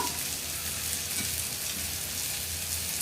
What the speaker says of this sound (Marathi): व्यवस्थित परतून घेऊया व्यवस्थित सर्व मिश्रण भाजून घ्यायचं आहे